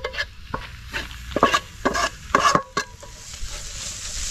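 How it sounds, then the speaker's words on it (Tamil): A spoon stirring a pan of snail curry with roasted ground cumin and fennel, cooked in a traditional way, giving repeated close scraping and clattering strokes in an irregular rhythm over a faint sizzle, with no voices. "அதையும் போட்டு கிண்டிக்கிறோம்."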